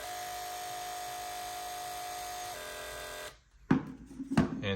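Electric animal hair clipper, a Heiniger or Joyzze model, buzzing steadily at its second speed with a constant motor whine that drops slightly in pitch before shutting off, followed by brief handling clatter.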